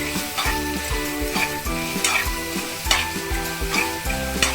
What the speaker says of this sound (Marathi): मसाला आपण ॲड केलेला आहे त्याच्यामध्ये आणि ते त्याच्यामध्ये चांगलं परतून घ्यायचं आहे